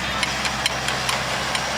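A tractor engine runs steadily close by, a continuous rumbling drone punctuated by faint regular ticking knocks.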